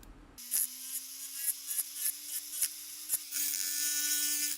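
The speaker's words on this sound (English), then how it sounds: "The previously soaked liner inserts are scrubbed and refined using a rotary tool with a wire wheel" A rotary tool fitted with a wire wheel scrubs rusty soaked liner inserts from a WWII K98 bayonet, giving a steady high whine that climbs slightly in pitch, broken by repeated scraping bursts and brief contact ticks, then a harsher sustained grind at the end.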